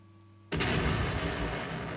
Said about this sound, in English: this is a grenade type bomb anyway